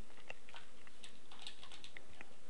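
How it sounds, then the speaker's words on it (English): Light, sparse keystrokes on a computer keyboard while entering billing codes, faint scattered clicks over a quiet room background, no speech. "So if I type in lacerations"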